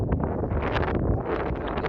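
Strong wind buffets the microphone in a continuous low roar with gusty rustling, loud and close throughout, with no talking.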